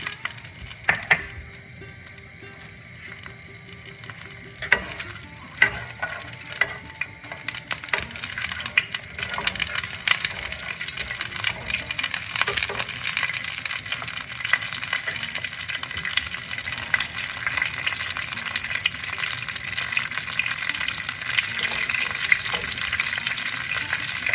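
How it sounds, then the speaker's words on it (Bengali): Mustard seeds with dried and green chillies frying in hot oil give a continuous crackling sizzle with sharp spitting pops, loud and close, steady for the whole stretch. "ফোড়ন দিচ্ছি এখন সর্ষে, শুকনো লঙ্কা, কাঁচা লঙ্কা"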